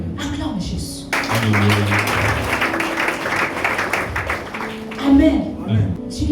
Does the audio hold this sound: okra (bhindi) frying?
no